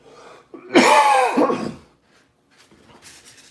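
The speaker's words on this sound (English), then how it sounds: "I'm going to cough again." A single harsh cough bursts out close by, followed by quiet breathing and faint rustling.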